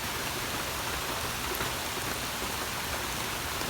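Steady rain pours onto a hot summer vegetable garden with corn, a dense, even hiss of drops on leaves and ground with no pauses and no voices.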